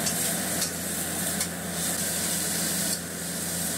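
Pork ribs fry in hot oil until golden brown, a steady close sizzle with a few brief bursts of louder crackle as they are stirred, no talking.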